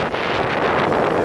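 Wind whips across the microphone on the lakeside at Riva on Lake Garda, a loud, continuous roaring rush with uneven gusts, and no voices over it.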